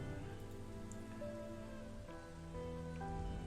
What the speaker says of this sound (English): you scope out a lot of rain and a lot of mud